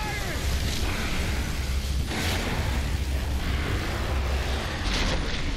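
Gunfire in Gears of War 3 blends into a dense, continuous wash of loud combat noise, heavy low rumble and bursts, with no clear gaps across the stretch.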